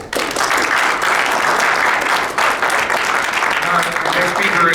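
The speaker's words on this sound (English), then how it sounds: "So give another round of applause for Glenn Twiddle" Loud, sustained audience applause fills a conference hall for speaker Glenn Twiddle, a dense wash of clapping that holds steady throughout with a faint murmur beneath.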